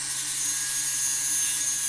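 Steady rasping strokes of a jeweller's piercing saw cutting metal, continuous and close, with a faint hum beneath and no voices.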